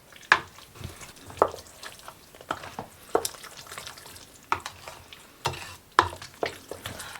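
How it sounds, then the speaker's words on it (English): Green hubbard squash pie filling being mixed in a bowl, heard as a series of soft, wet stirring strokes with sharp clicks of the utensil against the bowl, repeating roughly every second, close and fairly quiet with no talk. "Now, we're going to get this all mixed up."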